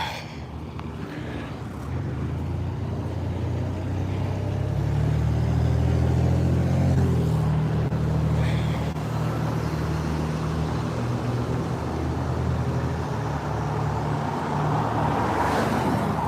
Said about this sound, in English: Yeah, good farm truck.